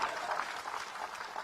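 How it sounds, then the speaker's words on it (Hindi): A large crowd at an outdoor political rally in Chikhaldara, Maharashtra, applauding in a steady, dense wash of clapping, sustained and moderately distant, with no speech over it. "जोरदार ताली हो जाए।"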